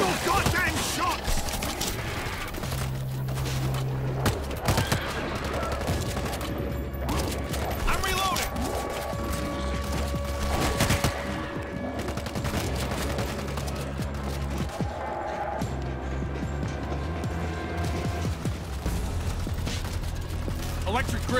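Dense gunfire in the video game World War Z, rapid bursts and mechanical clatter in a busy, loud mix under game music, with voices calling out throughout.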